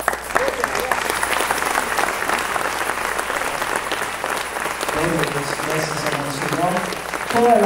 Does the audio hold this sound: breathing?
no